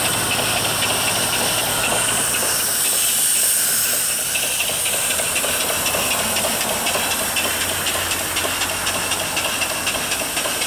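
A mill-style box bed steam engine with a flyball governor runs on steam from a 20-inch boiler, giving a steady loud hiss with a fast rhythmic mechanical chuffing underneath, close up and with no talking.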